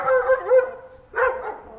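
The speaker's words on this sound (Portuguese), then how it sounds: "isso a gente passando pelas casas e os cachorros latindo pra Scully." Dogs bark from houses at a passing dog during an evening walk: two short, fairly close barking bursts separated by a brief pause.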